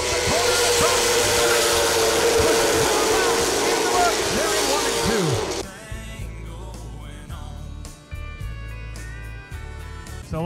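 Race cars at Dominion Raceway accelerating through a corner on championship night, a loud, dense engine roar that cuts off abruptly midway, leaving quieter, more distant engine drone with intermittent bursts.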